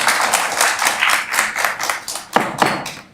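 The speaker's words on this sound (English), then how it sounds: "if we're going to clap every time, it's going to delay this meeting" Clapping breaks out in the audience at a town council meeting, a brief burst of hand claps and taps close by with a few louder claps near the end.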